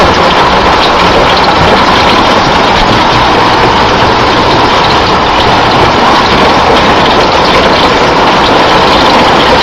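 Marble-sized hail pelts down in stormy downtown Medford, Oregon, a loud, dense, unbroken roar of impacts on surfaces with no pauses and no voices.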